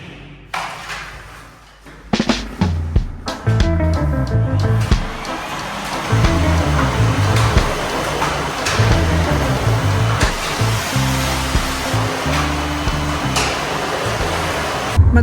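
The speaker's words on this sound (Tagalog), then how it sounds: "mag-vacuum tayo sa gilid-gilid" A vacuum cleaner runs along room edges in a house in Germany, a loud steady whine after an opening clatter, with bumps and thuds as it moves along corners.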